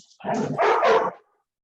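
A dog barks and yips in one loud, close burst lasting about a second, followed by silence.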